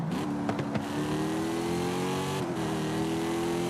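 A car engine in Forza Horizon 5 revs hard and climbs through the range, a loud, continuous rising drone with a brief shift and dip before it pulls up again.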